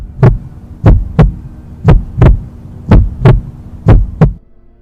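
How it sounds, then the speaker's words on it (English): A loud throbbing heartbeat sound effect, deep thuds arriving in paired beats at a steady pace, about seven strong pulses over a low hum before it cuts off. "The heartbeat grew quicker and louder every instant."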